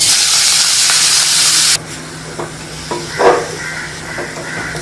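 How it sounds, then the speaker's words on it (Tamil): Carrots sauté in ghee in a pan, starting with a loud steamy hiss that abruptly drops to a quieter, steady sizzle with a few soft stirring scrapes and knocks; no speech. "இதில் கேரட் போட்டு வதக்கிக்கலாம்"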